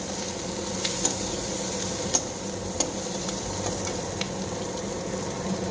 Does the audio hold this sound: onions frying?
yes